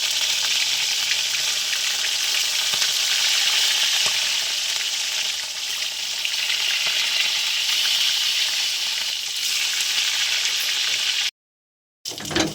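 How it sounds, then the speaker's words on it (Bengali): Pieces of rohu fish fry in hot oil with a loud, continuous hiss and crackle, near and steady, with a few stirring sounds, cutting to silence briefly near the end. "তো মাছগুলো ভেজে নেবো।"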